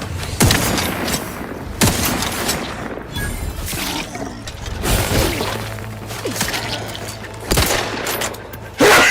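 Loud, dense gunfire and blasts from a space shooter video game, with rapid overlapping shots, sharp impacts and mechanical effects filling the whole stretch.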